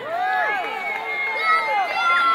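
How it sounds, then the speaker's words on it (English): A crowd at an indoor swim meet cheers the swimmers on with sustained shouting and whistling that hold steady, loud and reverberant, throughout. "Swimmers in the water, let's cheer them on."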